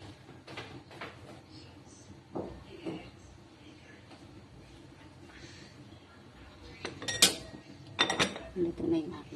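Cutlery and dishes clink and scrape as a crab and soup lunch begins, with scattered light taps at first and then louder, clustered clinks near the end, close by, with faint voices in the background.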